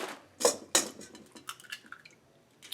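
Eggs cracked one after another against a bowl rim for a ham and white cheddar bread pudding, two sharp taps close together followed by lighter clicks and small drips, near and clear with no talking.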